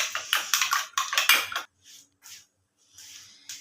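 A fork or whisk clinks rapidly against a bowl while eggs are beaten with salt, a quick loud run of metallic taps, then a few softer, sparser strokes, with no talking.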